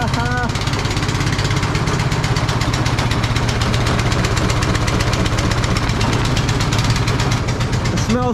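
An old Honda engine that has sat unused for a long time, with gas in the tank, runs loud and close with a steady, rough idle and a fast rhythmic knock throughout.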